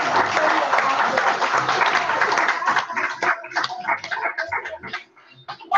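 An audience at a seminar gives a round of applause, loud and dense at first, then thinning into scattered individual claps before dying away near the end.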